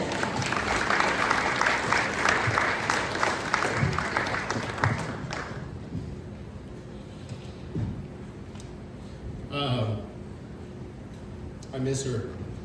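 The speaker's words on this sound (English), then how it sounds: "Let's give her a round of applause." An audience at a celebration of life applauds warmly for about five seconds, the clapping fading into quiet room sound, followed by a few brief spoken words.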